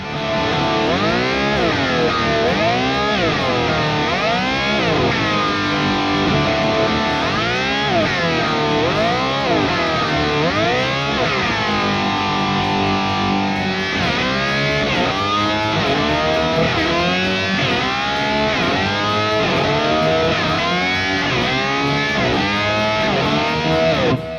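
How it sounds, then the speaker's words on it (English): A distorted electric guitar plays continuously while an Axe-FX pitch block, set to replicate a DigiTech Whammy Ricochet, makes its notes swoop upward again and again, loud and close. "It is how you can get something to rise in pitch when you press a button on your pedal board."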